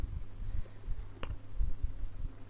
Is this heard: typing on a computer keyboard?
yes